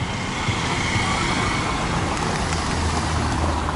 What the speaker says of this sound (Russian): Машина.